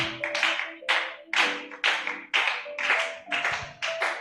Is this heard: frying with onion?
no